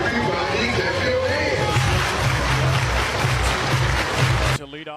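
Softball stadium crowd at a college championship game clapping in a dense, steady wash of applause and chatter that runs for several seconds, then cuts off abruptly near the end.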